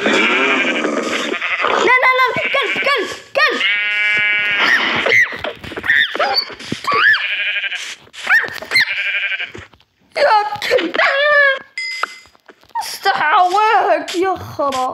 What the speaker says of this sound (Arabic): فيه خروف